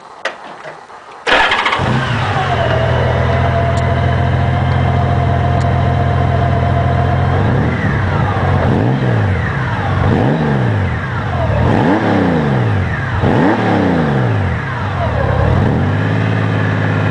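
A Honda Goldwing motorcycle fitted with Alleycat exhaust mufflers starts up close to the microphone and settles into a smooth idle, then revs repeatedly, each rise and fall in pitch sweeping clearly before it returns to idle.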